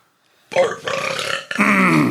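A loud, drawn-out human burp in two long guttural pulses, close to the microphone, following a brief quiet moment.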